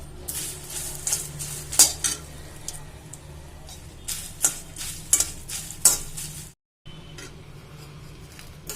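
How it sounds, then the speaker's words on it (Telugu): Dried red chillies and curry leaves sizzle and crackle in hot oil while a metal spoon scrapes and clinks against the pan in an uneven stirring rhythm, close and fairly loud, with a brief gap of silence near the end. "ఇప్పుడు ఈ ఎండుమిర్చి, కరివేపాకు రెండు కూడా చక్కగా వేపేసుకున్నాము."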